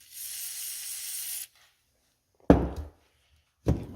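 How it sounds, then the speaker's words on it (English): A short WD-40 aerosol spray into a John Deere magneto hisses for about a second and a half, close and sharp, followed by two dull knocks. "Let's spray some WD-40 down in there."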